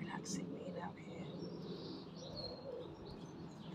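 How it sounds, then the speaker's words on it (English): Birds sing outdoors in a garden, with faint, scattered chirps and tweets over a soft, steady background hum, distant and quiet. "I can hear loads of birds in the background."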